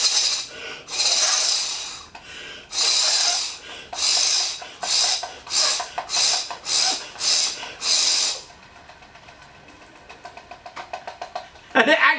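Someone breathes forcefully into an 1896 blow-torch generator to spin it, with a series of loud, rhythmic raspy blows followed by a quieter whirring stretch and a brief final burst.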